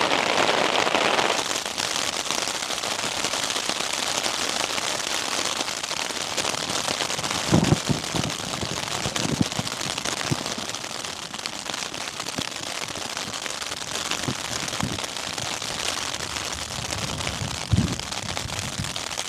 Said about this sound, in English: we're definitely getting some good flashes of lightning and some thunderclaps now